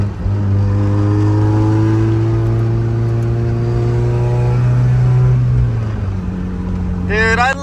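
A Mazda Miata's engine drones loud and close from inside the car, its pitch holding steady and then dropping as it eases off, with a short rising rev at the very end.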